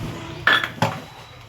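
Two quick, bright clinks of metal dishes knocking together during washing, the second a little softer, over a faint background of running water.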